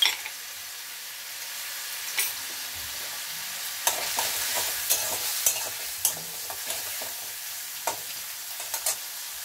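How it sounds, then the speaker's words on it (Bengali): Turmeric, cumin and chili powder sauté in a fish curry base for snakehead kalia, a faint continuous sizzle broken by occasional sharp spatula scrapes and taps against the pan, with no voices. "এটার মধ্যে দিয়ে দিচ্ছি হলুদ, একটু জিরের গুঁড়ো, একটু লঙ্কার গুঁড়ো, একসাথে কষা হয়ে যাবে।"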